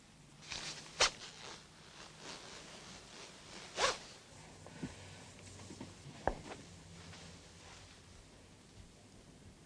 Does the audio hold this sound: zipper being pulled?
yes